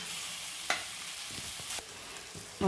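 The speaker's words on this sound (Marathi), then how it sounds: "आता हे मिक्स करून घ्यायचं आणि चांगले टोमॅटो नरम होईपर्यंत आपल्याला हे शिजू द्यायचं आहे" Tomatoes cooking in a pan for moong-chana dal, a steady close sizzle with a few scraping stirs of a spoon, no talking.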